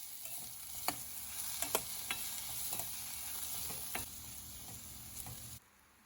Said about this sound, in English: half a teaspoon of jeera powder. Now saute it very well.